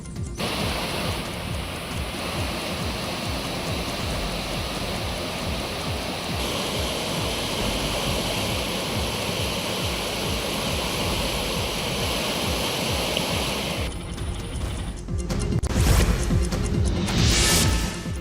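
Loud, continuous roar of the flooded Nandini River at Kateel, a dense rushing wash of fast-flowing floodwater that holds steady throughout with a slight surge near the end.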